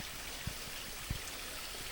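Cascade Creek's west fork rushes through a gorge in Hanging Rock State Park, a steady, soft, continuous water hiss with a couple of faint low thumps, heard alone.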